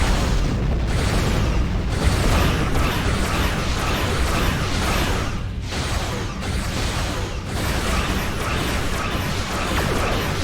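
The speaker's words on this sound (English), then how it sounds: "Torpedoes, fire!" Torpedoes launching and detonating in a Star Trek Online space battle, a loud, sustained barrage of booming blasts and mechanical bursts rolling on for about ten seconds without pause.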